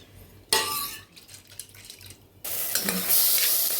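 Lentils for dal are washed in a metal pot, with scraping, clinking handling and rushing, sloshing water, first in an abrupt burst, then louder and more continuous toward the end.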